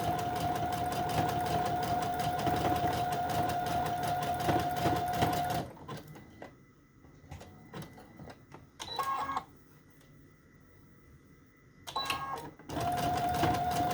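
Sewing machine zigzag stitching across fabric and lace pieces of a snippet roll, running in a steady loud burst, pausing, then giving two brief bursts before resuming continuous stitching.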